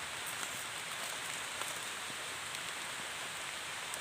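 Steady rain falls in a dense, hissing wash with no gaps, soft and even throughout, no voices heard.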